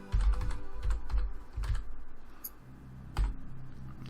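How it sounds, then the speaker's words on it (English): A name being entered on a computer keyboard: quick, steady key clatter near the mic, one burst of presses with a brief pause, then a final firm keystroke, with no voice. "And we can type in our name here."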